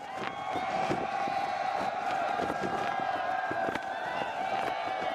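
Crowd cheering in a Suikoden II cutscene as flags are raised, a sustained roar of many voices with scattered shouts and rhythmic stamping over a steady musical drone.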